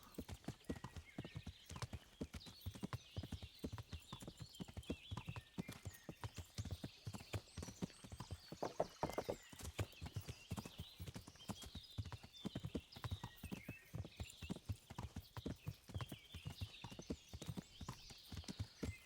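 Rapid, steady clip-clop of horse hooves trotting along in the video game Kingdom Come: Deliverance, crisp and close, continuing evenly throughout with no talking.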